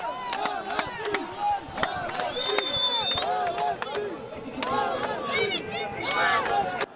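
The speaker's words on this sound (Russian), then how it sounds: "Болельщики Терека бодро провожают игроков на перерыв." Terek football supporters in a stadium see the players off at half-time, a roaring crowd with shouts, whistles and scattered cries layered over a broad wash of noise, distant and reverberant.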